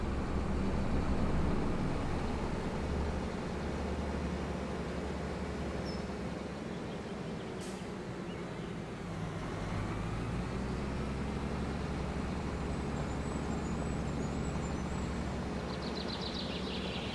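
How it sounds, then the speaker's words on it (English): Steady, continuous engine drone of a fast tractor plowing a field in Farming Simulator 25, a low even rumble with no breaks and no talk over it. "I like this tractor. It's nice and fast."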